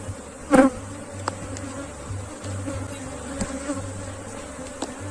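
A swarm of Africanized honey bees buzzes steadily around the main cluster, with a louder close pass near the start and a dense, continuous hum behind it.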